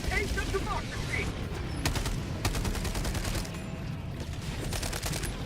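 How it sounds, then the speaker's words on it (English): Mortar and gunfire in Starfield crack through a busy firefight as rapid bursts and sharp repeated reports, with a steady din of battle around them and no clear speech. "More mortar, look out!"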